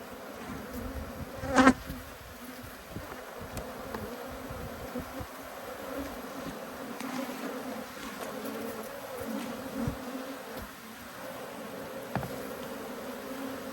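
Angry bees swarm around an open hive during an inspection, their buzzing filling the air in a steady, close drone with one sharp louder pass near the start.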